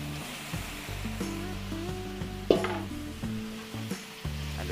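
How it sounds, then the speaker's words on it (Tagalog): Marinated beef for kaldereta hitting a hot pan, a loud hissing sizzle that flares sharply as the meat drops in, followed by stirring and scraping over a steady frying crackle. "lagay po natin yung ating minarinate. Pangkalderetang baka."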